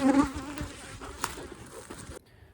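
Honey bees buzzing close around a hive entrance in a Texas apiary, a dense droning hum with one loud pass near the start, ending abruptly.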